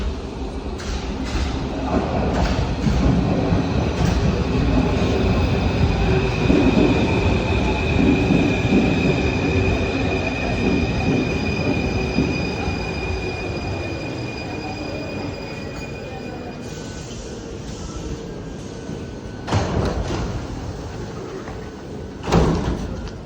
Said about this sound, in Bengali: এই যে সবাই অপেক্ষায় আছে মেট্রো রেলের। মেট্রো রেল চলেও আসছে।